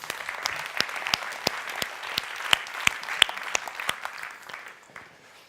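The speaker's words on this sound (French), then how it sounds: "On peut l'applaudir, merci" A conference audience at a customer-experience talk on artificial intelligence gives a round of applause, distinct claps close by over a softer bed of clapping that thins out and fades toward the end.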